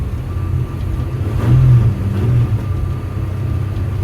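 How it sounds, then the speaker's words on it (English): A 1962 Mercury Comet driving with a horrible transmission or drive shaft noise, a loud, low droning rumble that swells and falls slightly around the middle and carries on steadily throughout. "There is a horrible, horrible noise coming from... It's only when the car is moving, not when it's idling."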